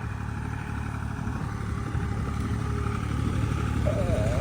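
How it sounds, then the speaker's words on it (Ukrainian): A tractor hills potatoes with a homemade hiller, running in raised first gear with four-wheel drive engaged. Its engine gives a steady, close diesel rumble with light clatter that holds without a break for the whole stretch. "хто буде питати, на якій передачі ходить трактор, то перша перша повишена, повний привід, щоб не пробуксовувало"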